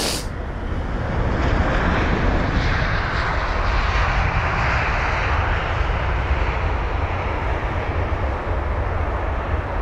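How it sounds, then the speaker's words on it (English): Virgin Atlantic Airbus A350-1000 touching down at London Heathrow after a long-haul flight, a loud broad jet roar rising sharply at the start and holding steady as the airliner rolls out, with no voices. "That was a very nice touchdown there from the A350"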